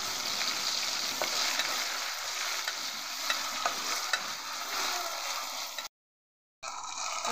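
Onion frying in a pan with ginger, cumin and garlic paste, stirred steadily: a continuous close sizzle with scraping spoon strokes throughout, cut by a brief silent gap near the end before the frying resumes.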